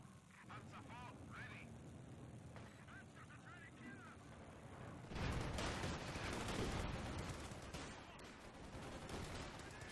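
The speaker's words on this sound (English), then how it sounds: "These LMGs are just ripping them apart" Light machine guns fire in Company of Heroes 2 amid a tank battle with Panzer IVs and a Panther, dense loud bursts of gunfire and explosions swelling midway, with talk over the first half.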